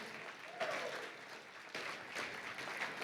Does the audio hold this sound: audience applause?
yes